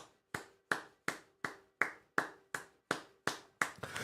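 A single pair of hands claps in a steady, even rhythm, about eleven sharp claps close by, with no voices.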